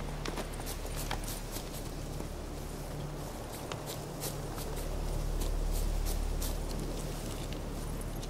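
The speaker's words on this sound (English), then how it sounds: "Can I call the horse?" Horse hooves clip-clopping in The Witcher 3 video game, a steady walking rhythm of sharp hoof strikes over a low ambient rumble, moderately close with no talking.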